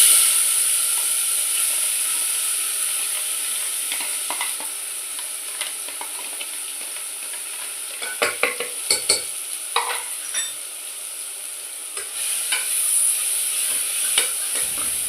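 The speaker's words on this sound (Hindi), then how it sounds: "सरसों के तेल में लगा दिया मैंने तड़का" Whole spices crackle and sizzle in hot mustard oil, a steady hiss with sharp pops and spits bursting out near the end.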